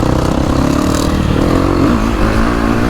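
A motocross motorcycle engine revs nearby, loud and raspy, with its pitch wavering and rising through short throttle blips over a constant mechanical drone.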